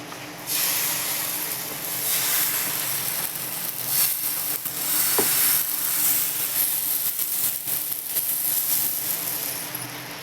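Rava dosa batter poured onto a hot pan sets off a loud, steady hissing sizzle that starts abruptly and holds for several seconds, close by.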